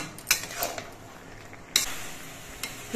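Grated coconut and sugar are stirred in a cooking pan while a bottle gourd dish is made, with a few sharp metallic clinks of the utensil against the pan over a quiet, faintly sizzling background.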